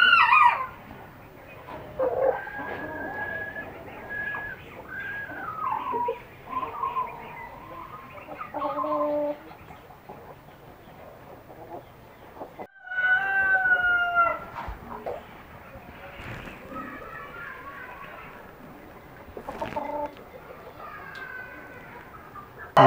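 Aseel chickens and a rooster on a farm cluck and call repeatedly, with a rooster crowing and other birds chirping in the background, loud and close with pauses between bursts.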